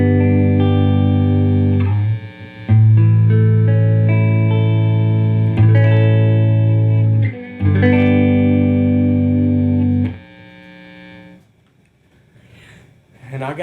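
An electric guitar with Gibson pickups in the middle position plays heavily distorted sustained chords, several ringing strums with brief gaps between them, then decays into a fading tail near the end.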